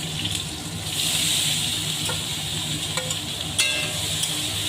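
Steamed vegetables frying in oil with bay leaf and green chilli for sabudana pulao, a steady close sizzle with a couple of brief utensil clinks, no talking.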